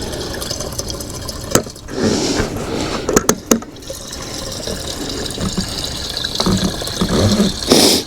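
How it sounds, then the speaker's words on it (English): Fuel is poured into the tank of an old snow blower, making a close, continuous liquid gurgle and trickle with a few sharp knocks and clunks partway through and near the end. "Let's just try to get some fuel in there,"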